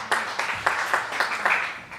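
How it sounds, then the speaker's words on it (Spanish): A church congregation at a Spanish-language service claps in an even, steady rhythm. The short, brisk pulses of many hands fill the room at a moderate distance. "Den un aplauso al Señor"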